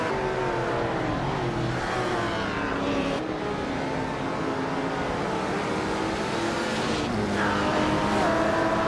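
A 1962 Ferrari 250 GTO engine roaring in a racing game, steady loud revving with rising and falling pitch as it accelerates and shifts, blended with other cars on track.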